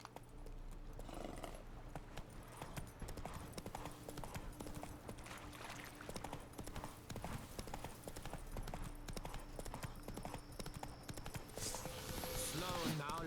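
A horse in The Witcher 3 trots with a steady clip-clop of hooves that carries on beneath game music and other in-game sound. A short burst of brighter noise comes near the end.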